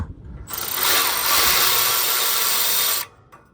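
A Milwaukee electric ratchet whirs in one continuous burst of about two and a half seconds, loud and close, starting and stopping abruptly during work on the catalytic converter of a 2016 Honda Accord V6.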